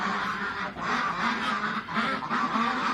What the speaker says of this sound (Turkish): Bu arada bir ördek kapışı var.